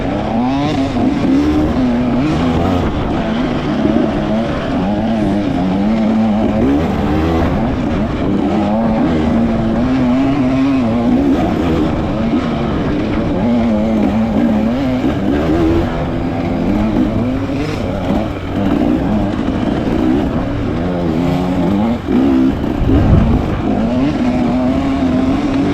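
A 125cc two-stroke dirt bike engine is worked hard during a harescramble race, its loud buzzing note rising and falling steadily for the whole stretch, close up and continuous, with no talk.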